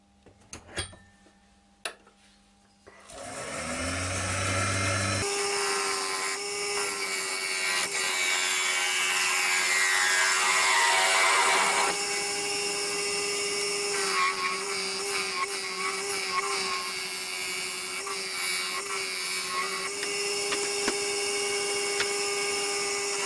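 Ash wood spinning on a lathe while it is faced off and a tenon is cut, a loud steady motor whine under a continuous scraping, hissing cut, starting after a few soft knocks.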